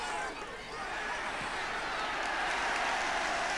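Applause from a football crowd at a 1972 Brentford versus Bournemouth match, a broad continuous clapping and crowd murmur from a distant stand, steady for the short duration.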